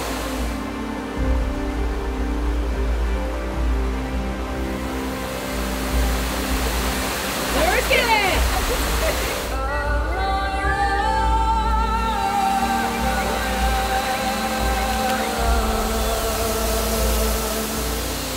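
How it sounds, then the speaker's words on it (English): Remote jungle waterfall on Siquijor Island in the Philippines, a steady broadband rush of falling water that stays loud and continuous throughout, with brief human sounds and faint voices over it. "So these waterfalls are much more remote."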